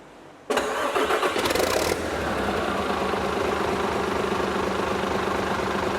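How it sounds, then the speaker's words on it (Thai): A car engine with a round EGR valve fitted for testing starts up loudly with a brief cranking burst, then settles into a steady, close idle that runs on alone to the end. "ติดเครื่อง ติดเครื่องแล้วตรงนู้น แล้วก็เทสตัวนี้ด้วย"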